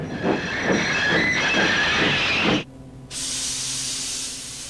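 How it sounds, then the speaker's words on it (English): A steam locomotive slows with rhythmic chuffing and a squealing whine of brakes, then a short lull before a long, steady hiss of released steam. "Thomas's brakes sound like this."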